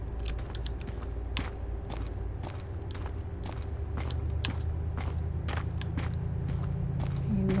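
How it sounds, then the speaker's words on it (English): Footsteps in the Missing Hiker game, a regular series of crisp crunching steps on rough ground, about two each second, over a low ambient hum. "Could've sworn I heard footsteps that weren't mine."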